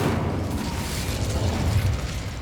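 Incendio fire spell cast in the video game Hogwarts Legacy, a steady rumbling whoosh of flame that holds loud and dense throughout without pause.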